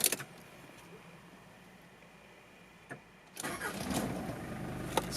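A 1995 Mitsubishi Pajero Exceed-II turbo diesel with an intercooler and four-speed automatic cranks briefly and fires up, settling into a steady, fairly close rumbling idle after a quiet pause.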